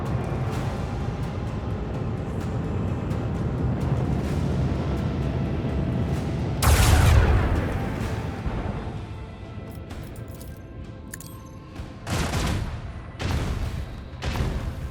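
Ship weapons firing in the space combat of Warhammer 40,000: Rogue Trader: a loud explosive blast partway through, followed by several further heavy booms and bursts over a steady low rumble, with no talking.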